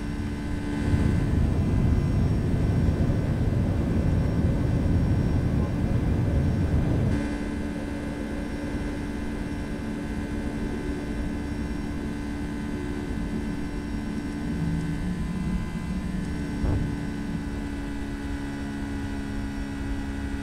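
A Boeing 757 jet in X-Plane 11 takes off and climbs, a steady loud engine roar with a low rumble that eases to a smoother, quieter drone after about seven seconds and carries on steadily.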